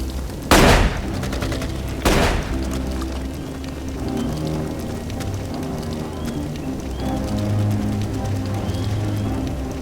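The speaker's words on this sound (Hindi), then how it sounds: "जल्दी गोली चला।" Two sharp, loud gunshot blasts ring out close by in a Hindi-dubbed thriller film, spaced a second or so apart, followed by a dense, rumbling wash of noise and scattered crackle.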